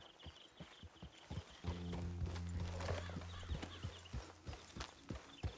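Horse hooves clip-clop at an even walking rhythm in the Western video game Red Dead Redemption 2, quiet and close, with a low droning tone underneath and a faint bird call.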